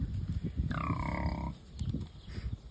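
Pigs on a farm make one drawn-out, wavering call over a steady bed of low grunting and shuffling barn noise.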